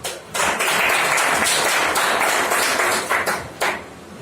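A crowd greets a leader arriving at a training event with enthusiastic applause, loud continuous clapping and cheering that surges in waves with brief dips.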